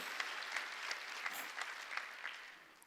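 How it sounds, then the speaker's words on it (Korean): Church congregation applauding during a Sunday worship service, steady faint clapping at a distance with a few sharper claps standing out. "주 예수를 믿은 걸 믿으면 박수야."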